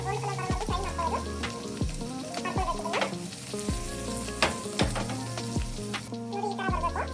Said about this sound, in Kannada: ಇವಾಗ ಎಣ್ಣೆ ಕಾದಾದ್ಮೇಲೆ ಸ್ವಲ್ಪ ನಾವು ಆವಾಗಲೇ ಮಿಕ್ಸ್ ಮಾಡ್ಕೊಂಡು ಇಟ್ಟಿರೋಂಥ ಪನ್ನೀರ್ನ ಒಂದೊಂದಾಗಿ ಹಾಕೋದು.